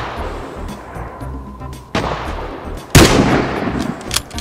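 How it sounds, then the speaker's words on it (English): Sniper rifle gunshots in the video game Vigor, several loud, sharp reports with rumbling tails, the loudest blast near the end, plus quieter distant shots. "Someone else is shooting in."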